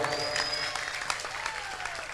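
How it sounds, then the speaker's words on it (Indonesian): Applause for a bride and groom at a wedding gathering: a short burst of clapping from an audience, moderately distant and steady. "Tepuk tangan untuk keduanya."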